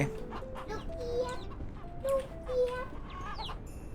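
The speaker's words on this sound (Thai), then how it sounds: "ไก่เต็มเลย" Chickens cluck in a coop in the farming video game Ranch Simulator, a steady stream of short clucks and calls at moderate level over a busy background, with no one talking.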